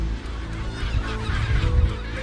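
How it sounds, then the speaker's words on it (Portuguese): Two gulls squabbling over food on land along the Santa Catarina coast, harsh overlapping honking calls over a steady rushing ambience, moderately loud and continuous. "Em terra, a coisa não estava muito tranquila entre estas duas gaivotas, disputando comida."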